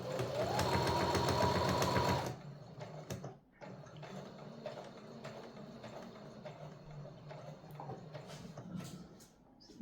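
Home sewing machine stitching through fabric for a dog bandana, a loud steady mechanical whir for about two seconds, then stopping, followed by quieter handling noises and clicks close by.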